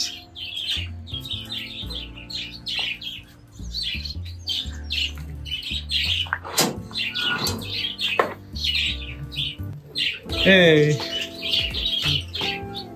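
Many lovebirds in a hatchery chirp and squawk nonstop in a dense, busy chorus, loud and close, with a voice speaking briefly partway through.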